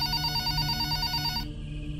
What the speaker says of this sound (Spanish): estaba viendo tele cuando sonó el teléfono.